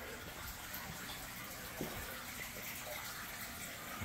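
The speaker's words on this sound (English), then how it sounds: "The water you're hearing is that beautiful fish tank." Water runs continuously in a house fish tank, a faint steady trickling and gushing hiss with a few small splashes and no voices.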